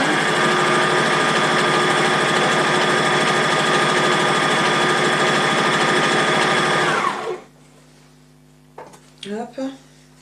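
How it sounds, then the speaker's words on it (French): A sewing machine stitches fabric in a steady, loud whir for about seven seconds, then stops abruptly, followed by brief quiet handling noises and a short stretch of talking. "Donc on va essayer de coudre droit quand même."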